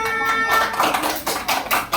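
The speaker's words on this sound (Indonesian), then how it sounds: "tepuk tangan dulu untuk Arsila" A classroom of third-grade pupils claps for a classmate, a short burst of quick, uneven hand claps close by, with a faint voice underneath.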